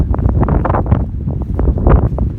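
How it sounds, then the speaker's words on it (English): Strong wind buffets and roars against the microphone during a trail run, loud and close with constant gusting rumble. "But the wind is getting stronger now."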